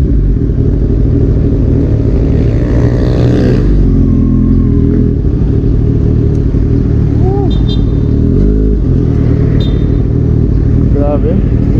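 A Kawasaki Z1000 motorcycle fitted with a single-exit SC Project carbon fiber exhaust canister revs loudly close by, throttle blips rising and falling over a constant engine roar, with brief voices mixed in.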